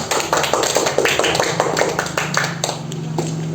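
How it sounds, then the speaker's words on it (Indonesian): A classroom of students clapping hands during a micro teaching lesson, a close, uneven burst of claps that thins out toward the end, with a faint murmur of young voices underneath. "Boleh tepuk tangan."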